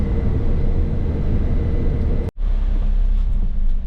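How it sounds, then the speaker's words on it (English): A passenger train passes a level crossing in Queensland, a loud continuous roar and rumble that holds steady and is cut by a brief dropout partway through, with no voices. "There we go, we got a train in Queensland."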